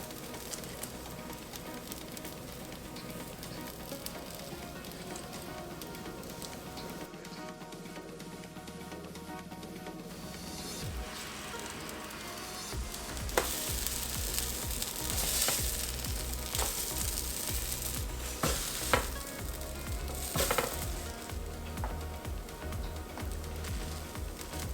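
Vanilla protein pancakes sizzle steadily in a hot pan, a close, continuous fizzing hiss with occasional louder crackles and faint clatter of handling in the second half.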